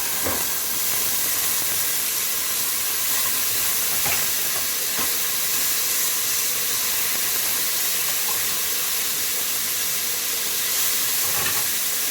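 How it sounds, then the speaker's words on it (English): Onions and garlic sizzle steadily in a preheated pan, a loud continuous hiss with faint scraping clicks scattered through, and no one speaking. "So our pan's all heated up. We're going to put the onions on there."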